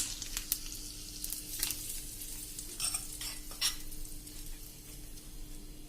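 Fennel seeds being stirred in hot oil, with a soft sizzle under scattered light clinks and scrapes of a utensil against the pan, close by and with no talk.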